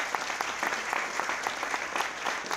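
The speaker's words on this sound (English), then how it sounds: "Let's give them a round of applause" Audience at a mayoral candidate forum on education and families in Cumberland clapping together, a brisk, fairly close patter of many hands at even loudness for a couple of seconds.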